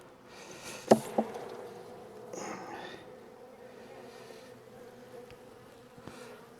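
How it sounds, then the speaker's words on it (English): Honey bees buzz softly inside a hive during a winter dead-out inspection, a faint steady drone broken by a couple of sharp close clicks and knocks. "Looks like I got a lot of bees down in there"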